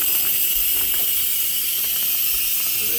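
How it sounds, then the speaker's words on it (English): A pressure cooker on quick release vents steam in a loud, steady, hissing rush that continues unbroken, close by and with no talk. "And it just sprays that steam everywhere"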